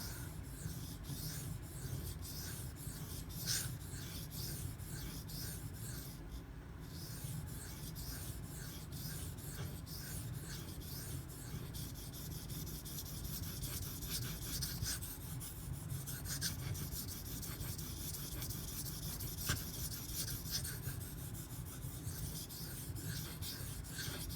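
A kitchen knife being sharpened on a Shapton Kuromaku 1500 grit whetstone gives a continuous close, soft scraping and rasping of steel on stone, steady strokes running throughout with no talk.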